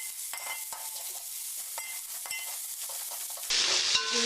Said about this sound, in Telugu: ఒకసారి అల్లం వెల్లిగడ్డ వేసినాక కలుపుదాము.